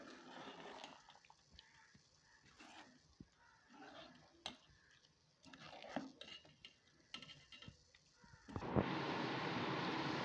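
Channa masala with kasuri methi is stirred in a pan, giving scattered close clinks and scrapes of a spoon against metal, followed near the end by a steady rush of noise.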